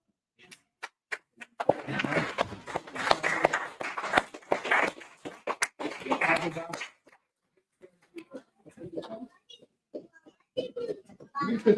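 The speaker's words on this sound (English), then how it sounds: "Clap it up." A crowd applauds in appreciation at a Feast of the Dedication gathering as flowers are presented to sisters: dense, sustained clapping for about five seconds, then it stops and scattered voices carry on.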